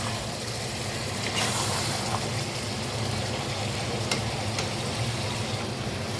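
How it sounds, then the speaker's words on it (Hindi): Chicken masala for biryani fries in a pan with a loud, steady sizzle throughout, close up, with occasional faint stirring clicks. "ये देखेंगे अब इसकी हम अच्छे से भुनाई कर लेंगे"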